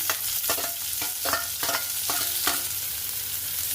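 Onions and green chillies frying in ghee in a kadai along with tempered lentils, mustard seeds, cumin and curry leaves, a steady close sizzle broken by about six rhythmic scrapes of a stirring spoon.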